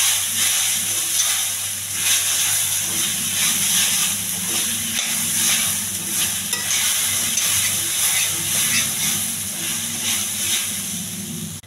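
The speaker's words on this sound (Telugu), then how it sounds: "కొంచెం బాగా కలపాలి." Lemon rice stirred in a hot pan, with a loud, steady sizzling hiss throughout and soft scraping strokes mixed in, close and without speech.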